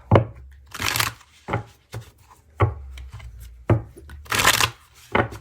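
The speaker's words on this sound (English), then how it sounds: "I'll be pulling from the Celestial Cosmos Tarot deck" Celestial Cosmos tarot deck shuffled by hand in repeated short bursts, crisp riffling and slapping of cards in an irregular rhythm, close and clear with no talking.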